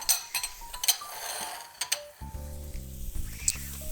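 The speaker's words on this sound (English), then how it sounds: "We're going to continue to let this cook a little bit so the butternut squash cooks." Butternut squash cooking in a pan with sun-dried cherries, cranberries and raisins during a holiday cooking class: a soft steady sizzle broken by metal utensil clinks, with a sustained tonal hum rising in the background partway through.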